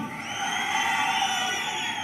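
A large crowd at a BJP public rally in Kurnool, Andhra Pradesh, sends up a sustained roar of cheering and clapping that swells and holds for a couple of seconds.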